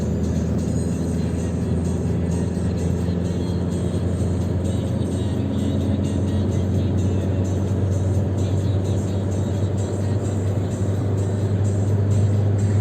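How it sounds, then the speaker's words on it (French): A diesel car engine holds at steady high revs, its electronic limiter keeping it from climbing further, a loud constant drone with a low throbbing hum throughout and no talk. "Elle veut monter dans les tours, mais l'électronique bride la voiture."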